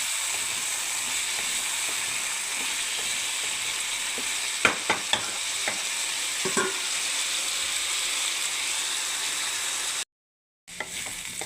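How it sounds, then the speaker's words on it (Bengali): Potatoes stir-fry in a hot pan with a steady close sizzle, broken by a few clinks and scrapes of the spatula, then a brief cut to silence near the end. "দেখুন ভালো করে কষিয়ে নেবো আলুগুলোকে।"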